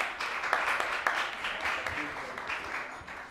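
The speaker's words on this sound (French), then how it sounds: "On l'applaudit encore," An audience at a finale event applauds, a moderate wash of clapping with sharper individual claps early on that gradually thins and fades, heard at some distance.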